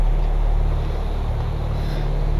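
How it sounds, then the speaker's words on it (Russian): Wind blows in the game Neverending Nightmares, a loud, steady low rumble with a hissing wash and no talking. "Появился какой-то ветер."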